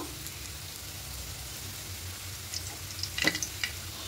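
Hot oil sizzles softly in a pan as whole garam masala spices (cinnamon, cardamom, cloves) fry for banana-leaf chicken biryani, a steady low crackle with a few sharper spits and scrapes near the end.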